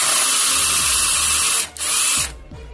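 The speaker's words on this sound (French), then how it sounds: "Normalement, la perceuse doit être plus puissante." Power drill spinning in thick cornstarch liquid, a loud continuous high-pitched whine that briefly dips and strains, then cuts off and leaves a quieter mechanical hum and clicks.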